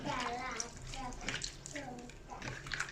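Meat being rinsed under running water gives a soft, continuous splashing at low volume, with a person talking over it.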